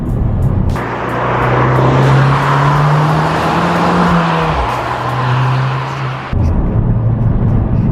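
A Ford Fiesta ST 200's engine drones steadily at close range, its pitch rising and falling slightly as it drives through bends, then cutting to a brief change near the end.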